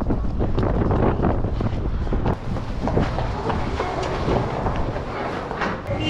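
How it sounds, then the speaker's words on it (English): Strong outdoor wind buffets the microphone in a steady, loud low rumble with gusty surges, with no talk over it. "It's so windy."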